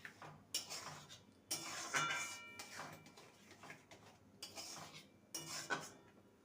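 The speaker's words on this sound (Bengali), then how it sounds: "এবার এটাকে নেড়ে নেব গ্যাসের ফ্লেমটাকে হাইতে করে দিয়ে একটা ডোতে পরিণত করে দেব" Semolina dough, made with water and a pinch of salt, is stirred in a pan over a high gas flame. It gives irregular metallic scrapes and clinks of a utensil against the pan, loud in bursts with short pauses.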